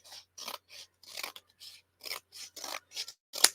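Scissors trimming scrap paper or fabric make about ten short, close, crisp snipping strokes in a steady rhythm, with no talking.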